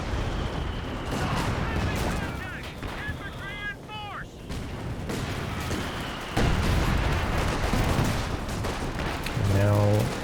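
Artillery shells and gunfire from a Company of Heroes 2 4v4 battle form a dense, continuous wall of booms and crackle, with someone talking over the din throughout.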